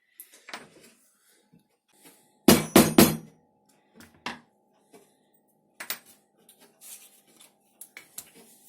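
A special hole punch driven through leather for a money clip wallet, with a plastic card underneath: three sharp, loud metallic strikes in quick succession, then scattered lighter taps and handling nearby.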